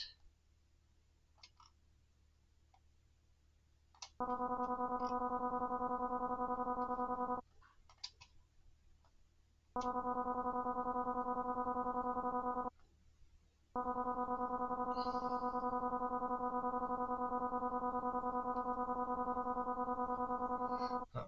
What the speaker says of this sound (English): I like those weird like aliasing / radio effects that you get.